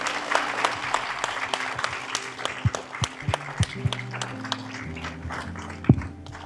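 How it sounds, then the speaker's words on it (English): Audience at a human trafficking summit applauds a panelist, a dense, even wash of many hands clapping that holds steady throughout, with a voice faintly audible over it. "Let's give him another round of applause."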